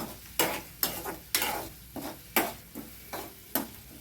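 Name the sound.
sautéing egg masala gravy base in oil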